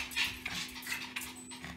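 A small Griffon-type dog whimpers and gives small yips over a steady background hum, the whines rising and falling in short bursts.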